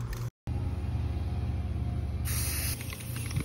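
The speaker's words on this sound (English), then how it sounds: "Spray painting it" Aerosol spray paint hissing steadily onto a canoe being restored outdoors, a continuous close hiss with a brief cut near the start and a shift in tone toward the end.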